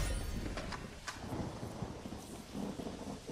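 Thunder from lightning in a video game rolls loud and close over steady heavy rain, with a few sharp cracks early on before the rumble settles into a continuous wash of downpour.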